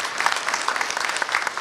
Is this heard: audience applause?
yes